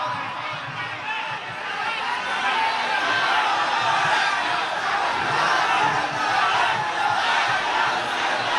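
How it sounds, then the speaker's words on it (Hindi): A large crowd of devotees shouts together in a continuous roaring mass of voices, steady and fairly distant, swelling slightly midway and never breaking into silence. "ये दीवानों का हुजूम क्यों है"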